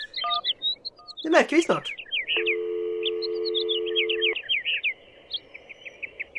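In the adventure game Syberia, a telephone's dialing tones beep in a quick sequence, followed by a steady, sustained busy signal, with chirpy bird-like ambience and a brief spoken voice over the game sound.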